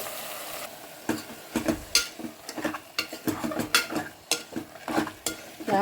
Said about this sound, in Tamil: பீட்ரூட் போட்டு நல்லா வதக்கிக்கலாம்.